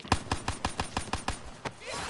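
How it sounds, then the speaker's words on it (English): Shotgun blasts in a video game, about nine sharp booming reports fired in a steady rhythm roughly every fifth of a second, loud and close, with no speech over them. "shotgun."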